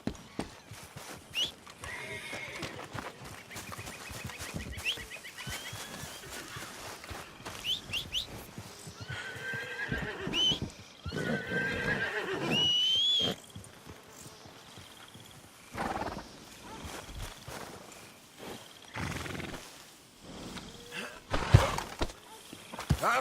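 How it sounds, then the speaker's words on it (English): A horse in the Red Dead Redemption 2 game world, with several neighs and whinnies plus intermittent hoof clops and other game ambience, moderately quiet overall and without clear speech. "Get that horse out of here."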